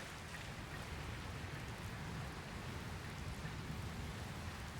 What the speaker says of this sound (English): Looks like there's another storm rolling in.